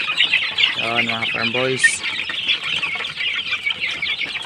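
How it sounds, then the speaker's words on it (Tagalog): Heritage chickens such as Rhode Island Red, Hubbard and Black Australorp clucking on a farm, with a short run of rhythmic clucks near the start over steady background noise while someone talks. "malusog na malusog ang ating alagang manok"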